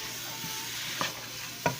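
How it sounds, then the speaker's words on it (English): Potato curry frying in a pan for a Guyanese dish gives a steady close sizzle, with a couple of brief stirring scrapes cutting through the hiss. "you're gonna go ahead and fry this a little"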